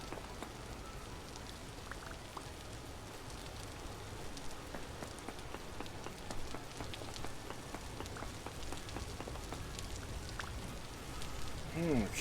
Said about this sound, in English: Oh nice, it turned into rain instead of hail.